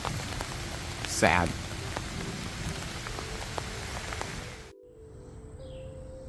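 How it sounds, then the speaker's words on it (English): Rain falls steadily on the roof of a shed being built, a dense, even patter with a brief bird chirp early on, before the sound abruptly drops quieter near the end. "It was raining almost every day or all 2 days, and it was just wet."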